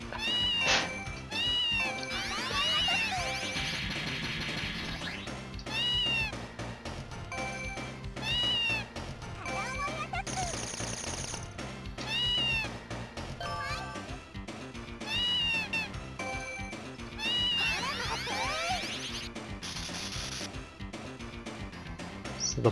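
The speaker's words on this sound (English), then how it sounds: "I don't know why it meows every time." Repeated cartoonish cat meows sound over busy music in the Japanese arcade game Gals Panic S3, recurring in bright bursts every few seconds.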